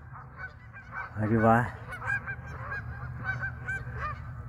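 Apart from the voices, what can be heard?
geese honking on a lake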